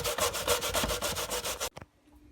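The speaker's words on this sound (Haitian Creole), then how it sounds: "nap graje patate là" Sweet potato rasped back and forth on a metal grater for pain patate, a steady rhythmic scraping of about a dozen close, loud strokes that stops abruptly, followed by a couple of faint knocks.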